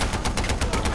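Machine gun fire in Far Cry 4, a rapid burst of about nine loud, close shots in quick even succession.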